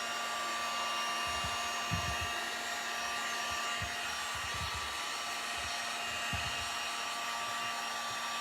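A hair dryer drying paint on a small wooden lantern made of Jenga-style blocks runs with a steady, close, constant whine, with faint soft bumps underneath and no talking.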